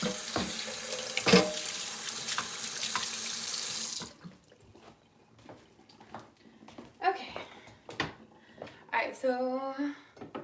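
A kitchen tap runs strongly into a sink for about four seconds as a work station is rinsed off, then stops, followed by clinks, handling noises and a voice speaking.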